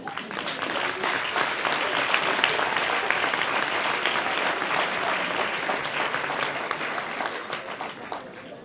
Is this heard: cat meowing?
no